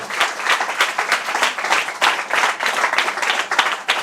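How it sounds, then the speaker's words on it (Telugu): A church congregation at a Sunday sermon claps together in praise of Jesus, a dense, loud, sustained round of applause from many hands with a slightly pulsing rhythm and no speech over it. "ఒకసారి యేసుక్రీస్తు చప్పట్లు కొడదాం"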